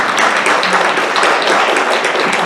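A town hall audience gives Chip a round of applause, dense, continuous clapping from many hands, loud and close, with no talking over it.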